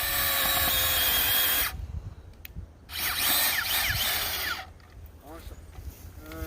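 A Makita 36V earth auger boring a post hole in soil, loud high-revving whine in two long bursts separated by pauses, with a shorter burst at the end and a voice speaking over it.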